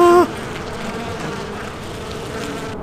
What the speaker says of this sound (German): Das sind Killerbienen. Die sind ja richtig krass drauf.